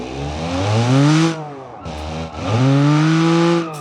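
A Lada VAZ car engine revving in BeamNG.drive, loud and close, with two long rising sweeps of strong harmonic engine whine separated by a brief dip, as if shifting or lifting off the throttle.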